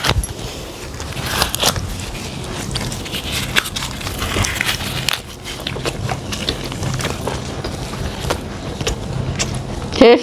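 Someone eating chapati with chicken curry during an eating challenge, with soft chewing, biting and crackly mouth sounds that recur irregularly and close up, under a steady background hum and with no talking.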